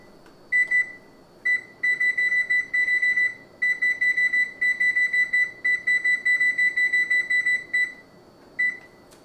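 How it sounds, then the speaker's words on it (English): An oven timer sounds as rapid bursts of high electronic beeps, grouped in repeated clusters with short pauses, loud and close in a quiet kitchen. "I'm going to set the timer."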